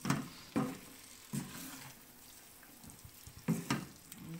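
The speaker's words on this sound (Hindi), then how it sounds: "तो ये अब हम इसको पकाएंगे, पास्ता शामिल कर देंगे जी, तो इसको मिक्स करेंगे अच्छे से" Chicken pasta sizzles quietly in a pan while it is stirred, with a few sharper scraping strokes standing out against the soft, continuous frying hiss.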